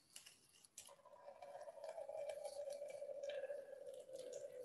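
Water draining from an unplugged container into a second container below, a thin trickling stream that starts after a few drips and settles into a steady, quiet pour.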